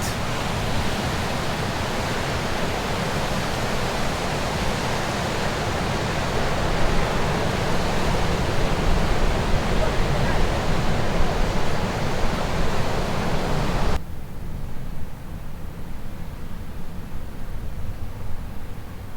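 Surf at Trestles, a Southern California beach below a tall bluff, roars as a dense, continuous wash of breaking waves, steady and loud, ending with a duller, muffled rumble in the final seconds.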